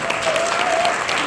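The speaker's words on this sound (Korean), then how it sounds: "빈잔 박수를 부탁드리겠습니다." An audience claps for a speaker at a clinic presentation event, a dense, steady round of applause from a crowd filling the short moment.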